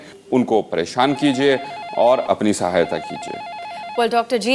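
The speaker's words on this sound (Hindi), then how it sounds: "जैसा कि आप सुन पा रहे हैं फ़ोन की घंटी लगातार बज रही है" A telephone rings in a repeating warbling electronic pattern under a man's continuous speech, staying at a moderate level in the background for several seconds.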